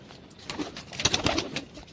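Soft pigeon cooing close by, a few low throaty coos in a short run, with faint background noise and no talking.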